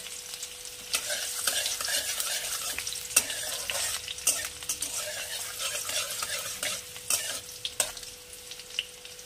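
Spice paste being stirred and fried in a pan for a poppy-seed pointed gourd and shrimp dish, with a steady close sizzle and repeated scraping strokes of the spoon throughout and no talking.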